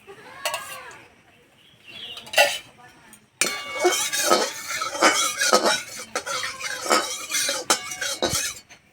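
A wok is set on the stove with mustard oil for frying pointed gourd fritters in a village kitchen, giving several close metallic clanks and clinks with scraping between them.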